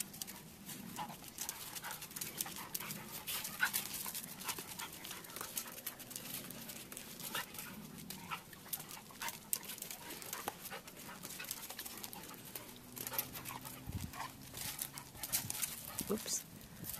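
Two dogs pant close by, with soft whimpering and occasional scuffles against a steady, noisy background, under a person's voice talking to them.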